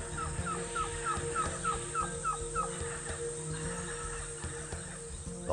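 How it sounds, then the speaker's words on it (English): White-tailed trogon calling: a run of about ten evenly spaced, similar hollow notes delivered in a steady rhythm, moderately close against a dense forest background hum. "The white-tailed trogon calling."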